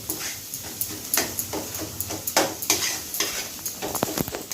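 Masala spice paste stir-fried in a pan for a rohu fish kalia, with a steady sizzle and repeated scraping spatula strokes at close range, no voices present.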